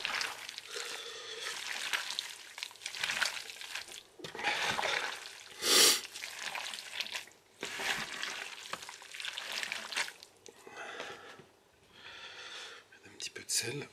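A wild boar sausage mixture is stirred and mashed by hand, giving soft wet squishing and scraping sounds in an uneven rhythm, close and fairly quiet, with a person talking over much of it.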